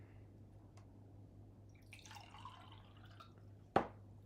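A single clear drop of water falls into a small glass jar close by, a sharp plink standing out against a quiet room with a low steady hum and faint rustling before it.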